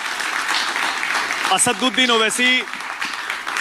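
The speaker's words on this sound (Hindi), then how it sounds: "तालियां बजाइए जोर से जरा" Loud applause from a crowd of students welcoming AIMIM leader Asaduddin Owaisi, a dense wash of clapping running through the whole moment while a voice speaks over it in the middle.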